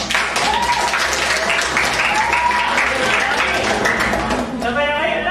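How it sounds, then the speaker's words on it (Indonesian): Students clap together in a classroom lesson, a dense, even patter of hands over about five seconds, with voices chattering and calling out underneath. "Tepuk tangan ini buat ini ya."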